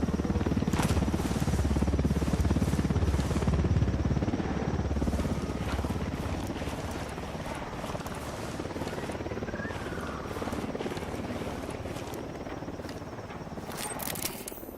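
A helicopter's rotor chop thumps steadily nearby in Ghost Recon Wildlands, with scattered clicks and metallic noises layered over it.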